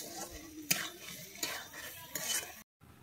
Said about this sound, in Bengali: লবণ দিয়ে আমি আরেকটু ভালোভাবে নেড়ে চেড়ে নিচ্ছি।